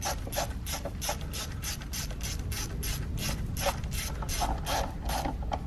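A ratchet clicks in a steady, rapid rhythm while tightening valve cover screws on a 2013-2020 Ford Fusion engine. The clicking is close and fairly loud, with no voices.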